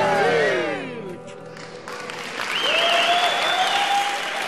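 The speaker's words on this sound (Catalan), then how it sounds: "Un aplaudiment pels convidats!" An audience at a circus show claps, with loud, continuous applause that dips briefly and then swells again while whistle-like tones sound over it.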